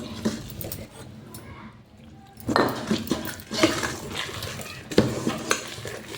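Pakora batter mixed by hand in a basin, with repeated wet squelching and stirring knocks against the bowl, moderately close, rising into a few louder bursts, accompanied by occasional clinks.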